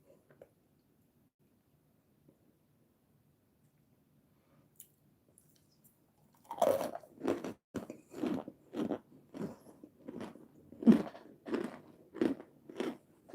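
Crunchy, crispy snack bitten and chewed close to the mic, starting after several seconds of near silence, then a steady run of about a dozen sharp crunches with no talking.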